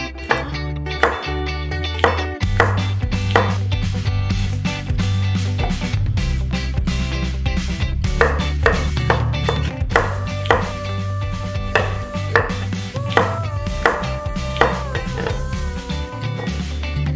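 A knife chops curvy cucumbers on a cutting board, a close, steady run of crisp rhythmic knocks, dozens of strikes repeating evenly throughout with no talking.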